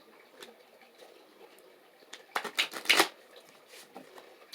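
Cards are shuffled during a tarot-style reading, a few soft riffling bursts clustered near the middle against a quiet background.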